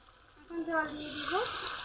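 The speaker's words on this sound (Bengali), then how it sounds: "এখন জল দিয়ে দিব।" Water pours and splashes into a pan of fried potato curry, a short soft sizzling splash swelling for about a second, close and fairly quiet.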